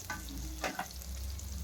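Pointed gourd (potol) being stirred as it fries gently in a pan, a low continuous sizzle with a couple of quick spatula scrapes near the middle, faint and close.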